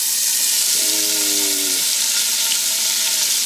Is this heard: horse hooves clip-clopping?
no